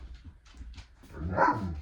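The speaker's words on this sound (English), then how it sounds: "What are you barking for?" A dog lets out a single loud bark near the end, after a few quieter huffs and sniffs.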